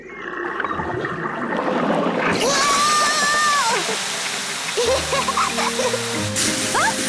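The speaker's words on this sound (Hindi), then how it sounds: "पेपा ने पाइप पकड़ी और डैडी पिग ने पानी शुरू कर दिया।" Water rushing from a garden hose during a car wash in a Peppa Pig cartoon, a loud continuous spray and splash with cartoon voices and tonal effects over it.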